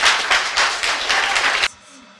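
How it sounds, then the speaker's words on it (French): Audience applause for a team at a live event, dense and close for under two seconds before cutting off abruptly into near silence. "On peut applaudir la team Klepto."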